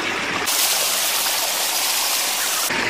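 Fast-flowing cold mountain stream at the Karlan picnic spot near Abbottabad, a loud, steady broadband rush of water running continuously and close, with no talk over it.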